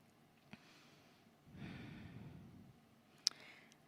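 One big, slow yoga breath, a breathy sigh-like exhale that swells and fades close to the mic, with a couple of small clicks around it in a quiet room.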